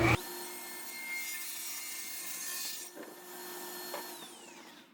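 A table saw blade raised to full height rips through wood with a steady, loud whining buzz for several seconds, then the blade spins down near the end.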